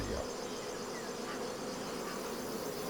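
Honeybees at a beehive keep up a steady, dense buzzing hum that holds level and close throughout, with no voices.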